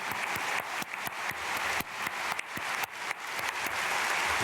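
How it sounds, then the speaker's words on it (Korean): A congregation applauds in thanks to God during an early-morning church prayer service, a steady, dense wash of many hands clapping with a few sharper individual claps standing out, continuous throughout. "하나님께 감사의 박수"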